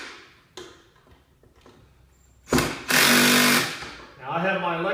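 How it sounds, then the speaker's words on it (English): An electric screw gun, set for torque, drives screws into the plastic housing of an Earthwise SN70010 10-inch 9-amp electric snow thrower. Two loud whirring bursts sit between stretches of a person talking. "Now I have my electric screw gun here adjusted for torque so it's not going to over torque in the plastic"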